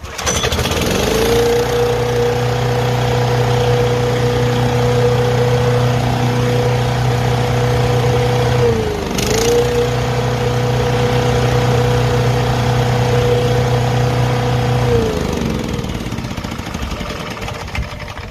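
A restored, already warmed-up Vanguard 6.5 HP small engine with a freshly cleaned carburetor runs at a steady, close, loud idle. It dips briefly midway, recovers smoothly, then cuts off near the end.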